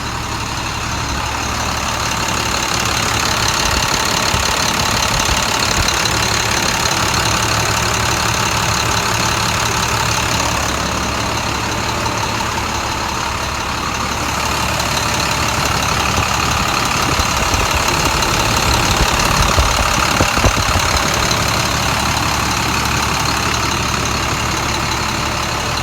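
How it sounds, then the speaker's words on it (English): A DT466 truck engine idles steadily after its first start-up, a continuous low rumble with a faint knocking texture, close and fairly loud, with no talking over it. "The engine's running real nice."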